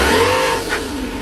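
A toy RC car revving hard in first gear, a loud close electric-motor whine rising in pitch then easing off over about a second.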